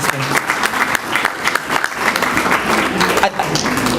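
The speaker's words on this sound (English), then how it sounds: "I think everyone should give themselves a round of applause again for your achievements." An audience applauds at a certificate presentation evening at the Highfields Centre, with loud, dense clapping running throughout and a few voices mixed into the crowd noise.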